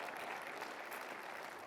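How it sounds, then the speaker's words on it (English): Audience applause at a university association annual meeting, a steady dense wash of clapping from a large crowd, loud and continuous throughout with no talk over it. "Give them a round of applause."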